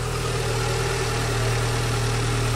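A Dacia Logan 1.2 16V engine idles on LPG, a steady close-up mechanical drone with even low-pitched pulsing and no voices.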